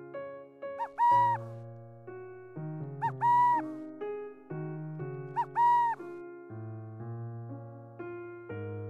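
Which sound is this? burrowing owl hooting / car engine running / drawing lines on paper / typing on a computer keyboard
burrowing owl hooting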